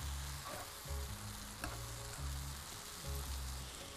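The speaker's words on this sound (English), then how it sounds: "We'll give all that a good stir." Sultanas sizzle in hot ghee for apple chutney, a steady broadband frying hiss beneath a repeating low musical tone, with stirring passes at a slow, regular rhythm.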